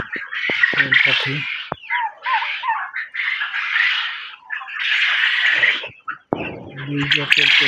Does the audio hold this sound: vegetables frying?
no